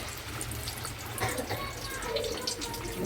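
Onion bonda batter sizzles in hot oil with a continuous crackling hiss while someone talks over the frying.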